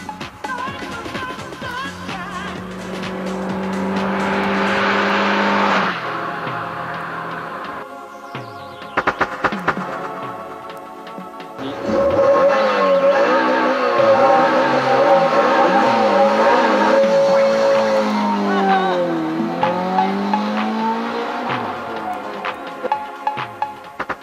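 A lowered, tuned car fitted with a Devil dual-outlet exhaust drives past, its engine note rising and settling through several revs and gear changes over about twenty seconds, loud and close, with a brief quieter gap midway and no talking.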